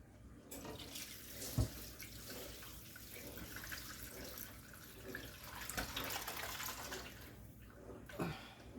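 Broth being strained out of a crock pot, liquid pouring and splashing steadily at low volume, with a couple of sharp clinks along the way.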